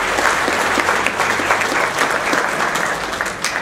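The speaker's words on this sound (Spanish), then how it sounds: "Con un caluroso aplauso recibimos la exposición." A conference audience gives a warm round of applause to welcome a presentation, dense and steady clapping filling the room at close range for the whole stretch.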